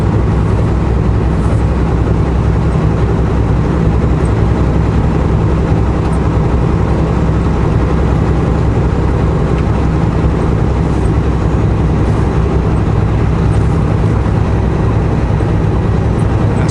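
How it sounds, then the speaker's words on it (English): Heavy truck driving on a snowy mountain road, a loud constant low engine and road rumble from inside the cab with faint rattles and squeaks of the body mixed in, steady throughout with no talking. "the only annoying sound will be the squeaky squeaks and the rattles of the truck"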